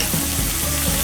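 Minced garlic sizzles and crackles steadily in a brand new frying pan, a close, loud and continuous hiss of hot oil.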